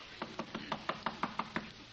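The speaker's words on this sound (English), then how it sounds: "Soon the waiter was knocking at my door." Knocking on a hotel room door in an old radio comedy: about nine quick, evenly spaced raps in a steady rhythm, close and fairly crisp, with no talk over them.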